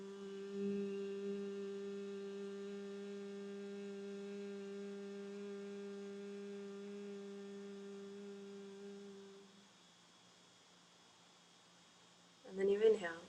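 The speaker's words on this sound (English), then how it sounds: "So that's going to be a deep humming sound that resonates in the chest and in your head." A deep, steady humming breath on a long exhale for brahmari breathing, held evenly for about nine seconds before it fades, with a short breathy sound near the end.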